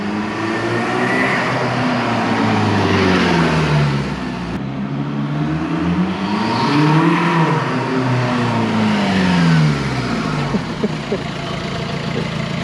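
A 1.9 TDI diesel engine in a converted VW T2 campervan with a new stainless exhaust revs up and down in long surging pulls, the turbo spooling audibly over a steady, loud drone.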